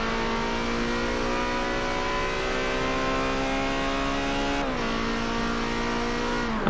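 A red Ferrari 360 Challenge Stradale in a racing video game holds a steady high engine drone, its pitch dipping briefly near the end before climbing again, loud and continuous with no talk.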